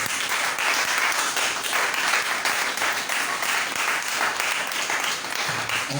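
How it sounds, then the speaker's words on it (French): A church congregation claps in a dense, steady wash of applause that holds loud and even throughout. "Merci de m'avoir acclamé, acclame le Seigneur."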